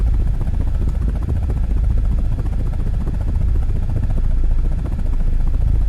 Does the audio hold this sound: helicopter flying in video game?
yes